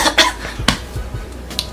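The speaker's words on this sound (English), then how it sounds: "Cough." A couple of short, sharp coughs from a person, close and fairly loud, separated by brief pauses, with faint background clatter and no talking.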